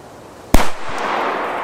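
One loud D-Böller firecracker blast goes off close by, with a brief rumbling echo trailing after it.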